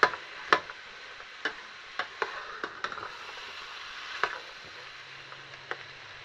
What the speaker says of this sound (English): we're going to put this onto a low heat and we are going to gently fry this for 15 to 20 minutes